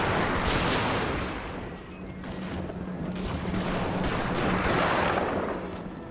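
Artillery fires canister shot in a Napoleonic-era battle in Napoleon: Total War, a dense continuous roar of cannon and musket fire rolling on without pause, loud and close throughout.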